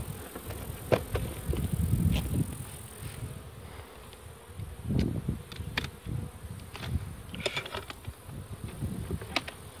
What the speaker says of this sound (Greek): Βλέπεις από μέλισσα πάνω, κοίτα.